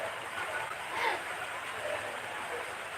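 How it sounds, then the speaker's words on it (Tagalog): Heavy rain in the Philippines makes a steady, broad hiss that holds evenly without breaks, moderately faint in the background. "Lakas ng ulan dito."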